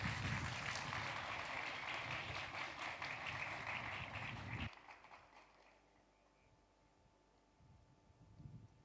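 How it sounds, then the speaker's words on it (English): Outdoor applause at a farewell parade for the President of Barbados greets the Barbados Regiment's parade commander, a broad crowd clapping for about five seconds before cutting off abruptly into quiet open-air ambience. "a round of applause for Major Adrian Dean, this afternoon's parade commander"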